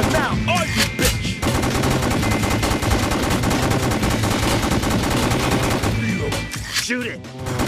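Rapid, loud video-game gunfire from House of the Dead: Overkill Extended Cut on PS3 with Move, dense repeated shots running almost nonstop with game music and effects, briefly thinning near the end.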